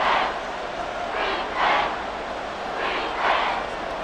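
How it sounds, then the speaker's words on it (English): Arrowhead stadium crowd in full roar during a Titans vs Chiefs game in Madden 24, a loud, continuous wash of crowd noise swelling in several surges. "The Arrowhead crowd in full roar"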